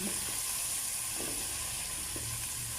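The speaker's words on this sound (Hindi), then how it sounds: "एक मिनट फ्राई करने के बाद" Garlic-ginger paste frying in a pan for a green chana pulao, a soft, steady sizzle at low volume with faint scraping stirs underneath.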